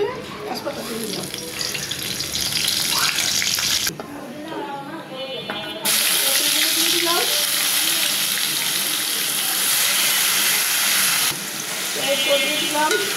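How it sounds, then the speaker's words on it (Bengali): Bay leaves dropped into hot oil in a wok, a bright, loud sizzle that surges up after a quieter start with utensil clinks and stays strong before easing slightly near the end. "তেলটা গরম হয়ে গেছে, তেজপাতা দিয়ে দিলাম"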